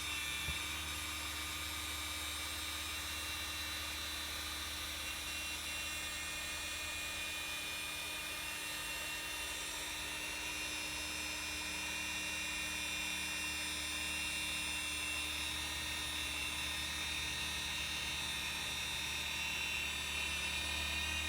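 A car polishing machine running steadily on a Mercedes, giving a constant low hum with a thin, faint whine on top, even and unbroken throughout.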